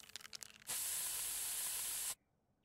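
A pepper spray hisses in South Park: The Stick of Truth: a single loud, steady spray burst lasting about a second and a half, cutting off abruptly after some faint clicking sounds.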